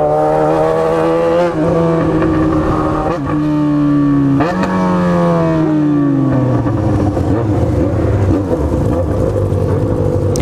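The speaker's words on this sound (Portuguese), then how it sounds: "Kick shift. Trocando marcha automática." A Yamaha XJ6 motorcycle engine revs loud and close, its pitch climbing and then dropping sharply at each quick gear change, with several shifts before it settles into a steadier, lower drone.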